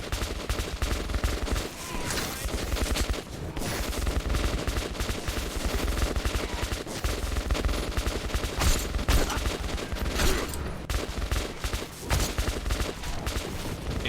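Dense, continuous gunfire in the shooter game Metro 2033: overlapping rapid shots and bursts crackle loudly throughout, with heavy low thumps under a near-constant barrage.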